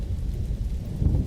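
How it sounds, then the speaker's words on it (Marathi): A heavy thunderstorm with pouring rain, wind and hail makes a dense, continuous low rumble. Rain hiss sits over it, and the roar swells slightly toward the end. "पाऊस आहे बाहेर, पाऊस मरणाचा पाऊस, वादळ सहित आणि गारा."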